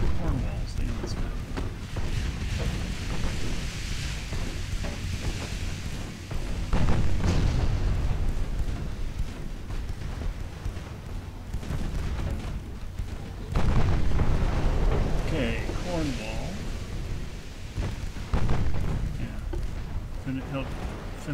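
Naval gunfire and shell explosions in the warship battle game Ultimate Admiral Dreadnoughts, with a British 1910 armored cruiser fleet in action; booms and rumbling blasts recur steadily, one after another, under constant talking.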